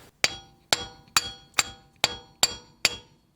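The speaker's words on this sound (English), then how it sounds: "we're gonna see if we can get it with the brass punch and the hammer first." A hammer striking a brass punch against a Jeep JK axle U-joint, seven sharp metallic blows at an even, unhurried rhythm, close and loud with brief ringing decay after each hit and no talking.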